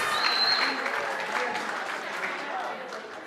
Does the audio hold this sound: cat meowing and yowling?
no